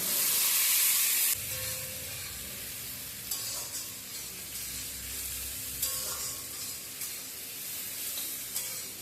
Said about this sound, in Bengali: পেঁয়াজ টমেটো দিয়ে ভাজা ভাজা করে নেব। পেঁয়াজটা লাল লাল করে ভেজে নেব।